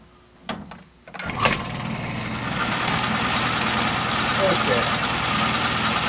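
An Atlas metal lathe spins up and runs steadily while taking a face cut, its motor and gearing whirring at a constant close-range drone after a few brief clunks and a speed change at the start.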